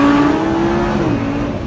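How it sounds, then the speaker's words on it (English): A Lamborghini Huracan on a UK test track, engine revving hard and loud and close, a steady high-pitched roar that holds then shifts pitch as the revs change. "It sounds just like a Lamborghini should sound."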